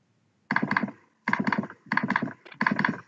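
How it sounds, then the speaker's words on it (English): Someone types hard on a computer keyboard in four quick bursts of loud, rapid clacking keystrokes separated by short pauses, close up with no talking. "be patient, sir. Otherwise, you're breaking your keyboard."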